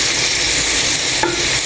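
Raw fish sizzles steadily in a hot pan as it is sautéed, a continuous close hiss with a brief clink of a utensil near the end.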